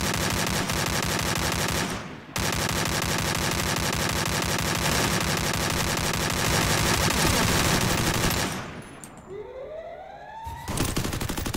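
Gunfire in the video game Free Fire, a dense, loud stream of rapid automatic shots running almost without a break, cut by a brief gap and then a sweeping, siren-like tone near the end.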